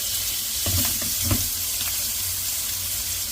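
Sausage sizzling in a frying pan, a steady broadband hiss with a few louder crackles and clatters, close and continuous with no talking.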